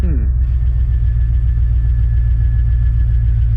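An engine turns over and catches, then idles loudly with a rough, uneven throb and steady rumble right beside the microphone.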